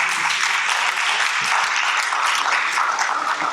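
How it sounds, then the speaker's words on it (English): An audience at a 2025 NAHREP Dallas Elevate event breaks into a round of applause, a full, even clatter of many people clapping with no break. "So everybody give them a round of applause."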